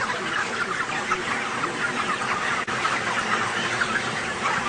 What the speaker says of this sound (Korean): 같은 사료에 단지 마시는 물만 달리한 닭.